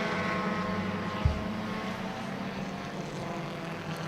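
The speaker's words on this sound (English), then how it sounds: "But those rotary engines sound amazing." Rotary-engined race cars at a race circuit, a continuous broad engine roar heard at some distance, steady and moderately loud, with one brief thump partway through.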